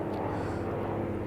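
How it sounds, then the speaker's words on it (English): Another airplane flying overhead gives a brief, continuous low engine rumble with a steady hum, moderately loud and uninterrupted, with no voices. "Is this another plane?"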